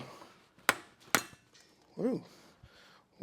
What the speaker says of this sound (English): This hammer just exploded on me.